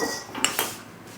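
A metal cooling rack is pulled out in a home kitchen, giving a few close, brief clinks and rattles of metal, with no talking.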